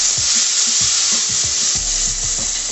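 Tomatoes stirred in a hot frying pan for a Telugu vaggani dish, a steady close sizzle with repeated scraping strokes of the spoon running throughout, no voices.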